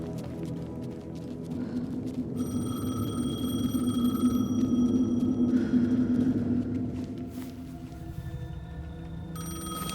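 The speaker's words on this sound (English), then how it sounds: "The payphone was ringing." Payphone ringing in the video game Alan Wake II, electronic ring tones beginning a couple of seconds in and repeating over a low, droning ambient rumble, with a swelling hum in the middle and no speech.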